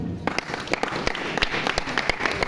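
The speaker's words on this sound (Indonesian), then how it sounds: "Ayo tepuk tangan sini." Scattered applause from a seated audience at an Indonesian motivational talk, sharp irregular claps in a brief burst with a faint voice underneath.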